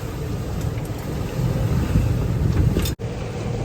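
Sailboat out in big seas near the Venice flood gates, with a steady roar of wind buffeting the microphone and rushing water, loud and continuous, briefly cutting out near the end.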